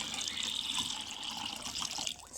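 Indian gooseberries (amla) being washed in a bowl of water, with steady close splashing and trickling that runs without pause and ends in a brief slosh.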